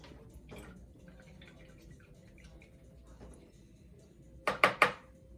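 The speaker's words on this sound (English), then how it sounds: "So now go ahead and wash off your brush" A paintbrush is rinsed in water: a few faint swishes, then three quick, louder taps and clinks against the water container near the end.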